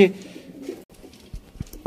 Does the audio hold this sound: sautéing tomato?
no